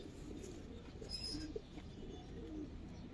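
Pigeons of the sapchila variety cooing softly and intermittently at a breeder's loft, with a few faint calls over steady low background noise.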